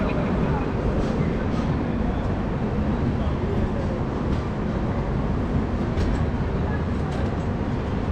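A train rumbles steadily into Kurukshetra station in India, a loud continuous close roar of wheels and carriage noise with no clear slowdown, while a voice talks over it.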